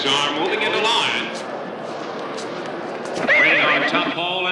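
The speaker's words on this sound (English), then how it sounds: "The horses are moving into line." Racehorses at a racetrack before the start, with a loud horse whinny standing out over crowd noise and voices, followed by a second whinny near the end.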